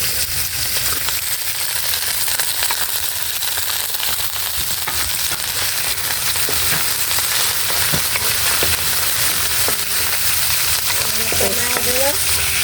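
Snow peas being stir-fried with glass noodles, a loud continuous sizzle and crackle with scraping stirs, close and dense for the whole stretch.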